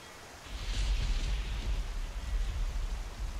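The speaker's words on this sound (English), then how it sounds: "This isn't even the heaviest rain that you can get." Heavy rain in a modded Skyrim video game, a dense steady wash of falling drops that swells after a quiet start and holds with a low rumble underneath.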